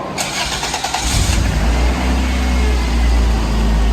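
A Toyota AE86 starter whirs for about a second, then the engine catches and settles into a loud, steady low idle.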